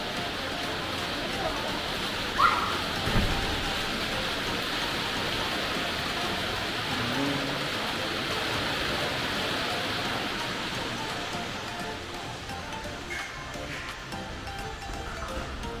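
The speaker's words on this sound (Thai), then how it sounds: "โอ้ฝนตกเมฆก้อนใหญ่" Steady rain hisses down outdoors at a lakeside amusement spot, a dense even wash of noise throughout, with a couple of brief knocks early on and faint voices underneath.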